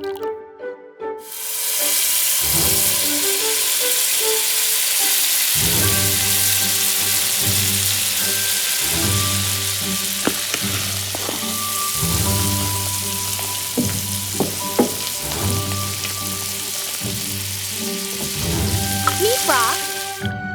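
Food fries in cooking oil with a loud, steady hiss and sizzle that runs continuously, broken by scattered clinks and scraping, while a voice speaks over it.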